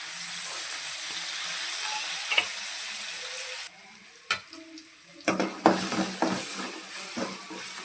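Tomato sizzles steadily while frying in a pan for a radish and prawn gravy, with a few stirring clicks and scrapes and a short quieter stretch midway.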